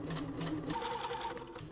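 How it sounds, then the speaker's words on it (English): A sewing machine runs a few zigzag stitches over an overlapped strip of elastic while underwear is being made, giving a close, steady mechanical whir for under two seconds with no talking. "just do a few zigzag stitches"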